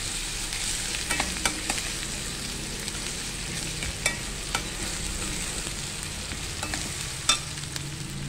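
Ginger garlic paste sautéing in a pan for prawn masala: a constant, even frying hiss with occasional sharp taps and scrapes from stirring, close and moderately loud, with no talking.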